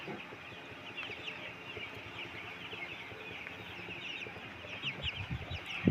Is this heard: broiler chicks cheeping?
yes